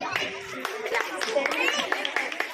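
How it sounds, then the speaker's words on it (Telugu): An audience claps at a Vinayaka Chavithi celebration in a Thumukunta apartment complex, with scattered, moderately loud hand claps under an announcer's continuous speech. "మన శ్రీకాంత్ అన్న డాక్టర్ దయచేసి క్లాప్స్"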